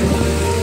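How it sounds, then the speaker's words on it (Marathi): Heavy rain pours down steadily at Lonavala, a dense, loud, unbroken hiss of falling water with a low rumble beneath it and no voices. "24 तास पाऊस चालू असतो."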